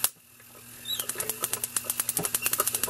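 A hand-cranked Wimshurst static electricity machine throws a rapid, fairly regular series of sharp crackling sparks, starting after a quiet first second and continuing as repeated close, bright snaps.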